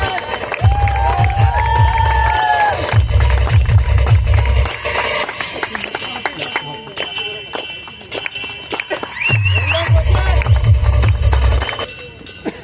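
Crowd at a village cricket tournament prize ceremony clapping and cheering, broad and continuous, with loud amplified talk over a PA running throughout.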